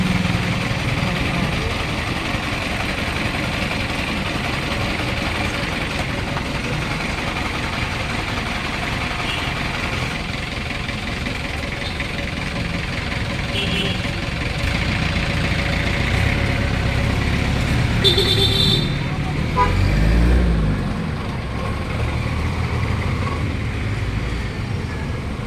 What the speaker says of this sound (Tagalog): May mga sasakyan po dating na daanan.